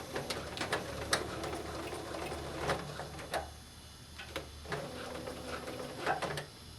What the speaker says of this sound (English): I'm going to stitch forward and I'm going to stitch backwards